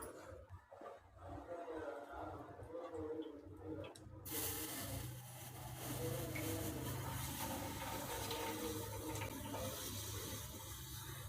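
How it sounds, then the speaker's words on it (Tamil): Melted jaggery syrup is strained into a vessel, heard as a steady, fairly loud liquid pouring and splashing that begins about a third of the way in and continues to the end, following quieter kitchen sounds. "இந்த வெல்லத்தை ஒரு பாத்திரத்தில் வடிகட்டிடலாம்"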